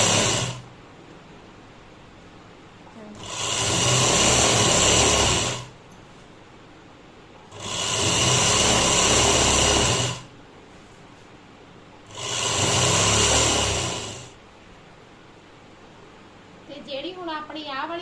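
A sewing machine stitches an old towel in three separate bursts of rapid, steady whirring, each a couple of seconds long, with quiet pauses between them and a voice speaking briefly at the end.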